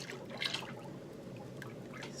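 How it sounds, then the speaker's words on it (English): Lye water for soap making pours into a container in a steady, soft liquid rush with faint splashy trickles, close and continuous throughout. "Lye water's going in."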